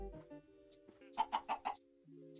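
A chicken in the Minecraft video game clucks in a quick run of four short, nasal squawks over a faint tonal game background, with no talk.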